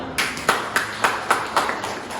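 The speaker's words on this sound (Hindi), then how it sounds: "इनके लिए एक जोरदार तालियां" Audience at a seminar in Jharkhand clapping in a brief, loose round of about eight distinct hand claps, moderately loud and fairly close, with no voices over it.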